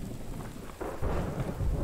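Steady heavy rain pours in the survival video game The Infected, a dense, continuous hiss with a low rumbling undertone, swelling slightly louder midway with no talk.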